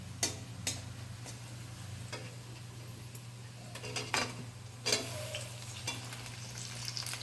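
Chopped tomatoes added to nearly fried onions in a pan for Bengali chicken curry with potatoes, giving a steady soft sizzle under scattered stirring clatters and utensil knocks against the pot, close by with no talking.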